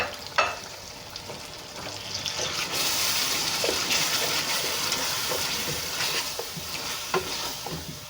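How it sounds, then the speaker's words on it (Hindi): Lentils (dal) with spices fry and get stirred in a pot, giving a steady sizzle with scraping spoon strokes and occasional clinks, close and continuous with no talking. "5 से 7 मिनट इसको भी भून लेंगे दाल को।"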